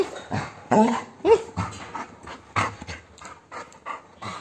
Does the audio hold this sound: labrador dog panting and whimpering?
yes